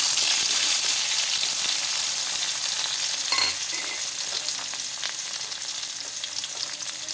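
Tomatoes sizzle and fry steadily in a hot pan with curry leaves while kadhi is being made, a dense hiss with a brief stir partway through and no talk.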